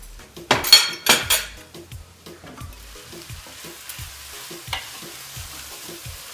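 Wilting greens get stirred in a hot frying pan, with a couple of loud scrapes and clinks of a utensil against the pan at the start, then a soft sizzle and occasional light taps.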